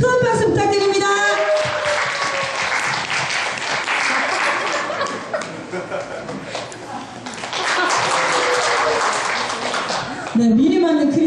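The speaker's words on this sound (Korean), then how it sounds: "큰 박수 부탁드립니다" Audience applause at a Christmas-themed comic stage performance by a Korean arts troupe: steady clapping from a seated crowd lasts most of the clip, with a host's voice and some laughter mixed in at the start and end.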